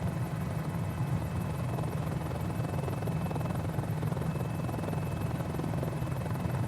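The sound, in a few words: Mini-500 helicopter flying in a video game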